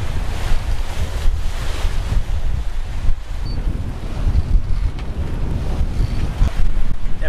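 Heavy ocean wind and crashing waves aboard a classic catamaran under sail, a loud rushing roar with repeated surges of spray and strong wind buffeting against the microphone.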